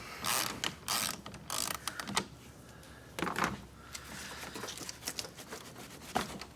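A hand ratchet working on a battery terminal of a Ford F-150, with rapid clicking pawl bursts and scraping metal close by in a quiet garage, some bursts quicker and some pausing between.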